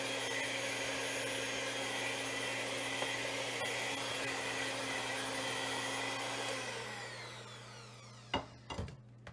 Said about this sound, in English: I think it's easier with the electric mixer, the electric whisk.